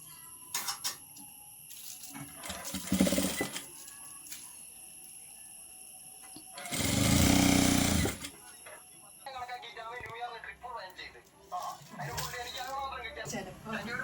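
A sewing machine runs in short bursts while stitching a folded-under hem on a garment, one louder burst lasting a couple of seconds, with someone talking in between.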